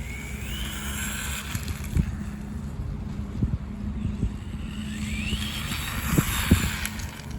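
A WLToys 124008 RC car whines through laps, its electric motor rising and falling in pitch as it accelerates and brakes, fairly close, over a steady outdoor rumble and wind.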